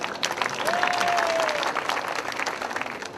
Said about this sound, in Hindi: तालियां बजाइए अब दोबारा।